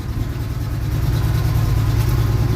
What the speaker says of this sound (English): I'm hoping it's not rod knock, but that's what it sounds like